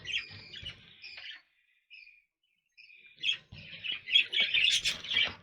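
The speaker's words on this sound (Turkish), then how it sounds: "Şöyle güzel bir kuş." A small yellow spangle budgerigar chirps and twitters in short bursts with a brief pause, then breaks into a busier run of squeaky warbling chatter.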